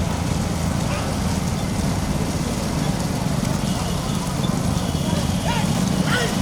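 Bulls pulling carts in a race at a village festival in Irandampulikadu, heard as a steady rumbling clatter of hooves and wheels under constant crowd noise and voices.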